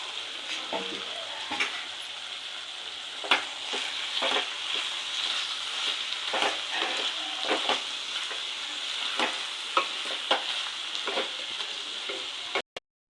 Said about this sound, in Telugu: మనం ఇలా ఫ్రై చేసి పెట్టుకున్నాం కదా ఆనియన్స్ని పచ్చిమిర్చి బాగానే ఇలా బాగా ఫ్రై చేసుకోవాలి